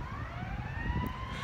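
An ambulance siren wails on a Chicago street, a faint, distant rising and falling tone held under steady traffic rumble for the whole short stretch.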